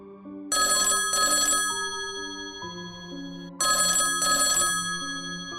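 A telephone rings in two double-burst cycles, loud and close, with a steady electronic tone between them, in a security guard's post at night.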